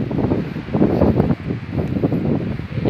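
Wind gusts at Boracay Beach on a sunny morning, a steady, loud rushing roar buffeting the microphone throughout, with no talk.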